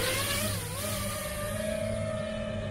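An armed FPV quadcopter's motors spin up into a sustained whine whose pitch wavers and settles, alone over a faint breezy background.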